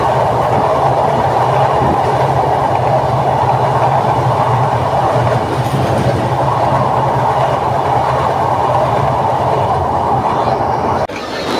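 The Rupasi Bangla Express passenger train rolls along beneath the Padma Bridge, a loud, steady rumble of wheels on rails with a faint clickety-clack throughout, heard close from on board.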